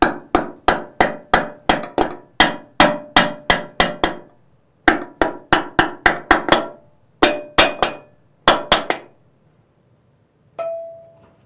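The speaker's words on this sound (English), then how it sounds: "Tap on one side and then the other until it bottoms out in its bore." A hammer taps a snug part of a 4L60E transmission down into its bore, with sharp metallic strikes in quick runs of several blows, short pauses between groups, and one softer ringing tap at the end.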